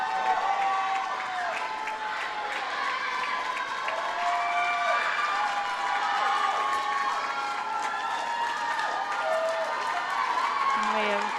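Crowd noise at a girls' high school swim meet as a swimmer finishes, a steady wash of cheering and clapping echoing through an indoor pool hall, with shouts and whistles rising over the din.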